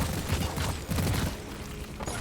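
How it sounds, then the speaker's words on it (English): Rockets launching in the mining shooter Deep Rock Galactic, a pair of thumping low blasts with whooshing tails amid busy battle noise, fairly loud and close. "Some rockets again."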